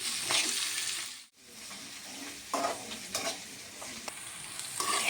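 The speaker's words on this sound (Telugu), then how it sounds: "మధ్య మధ్యలో ఇలా కలుపుకోవాలండి లేకపోతే అడుగంటుతుంది" Spinach rice mixture sizzling in a pan while a spoon stirs it, several scraping strokes over a steady close fry, with one brief drop in the noise.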